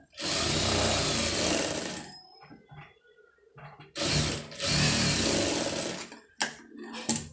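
Sewing machine stitching piping onto fabric, running in two loud sustained bursts with a quieter pause between and short stops and starts at the end.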